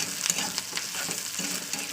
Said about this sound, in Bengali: আদা রসুনটা দেওয়ার পর না একটু তেলের উপরে আমি আবার ভাজা করে দেবো